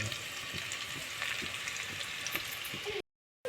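Curry leaves crackle and sizzle steadily in hot oil with browned onions and spice paste, a dense, continuous frying hiss at close range that stops abruptly near the end.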